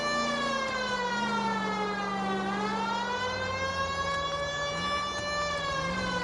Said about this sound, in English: Damn, let me put my siren on.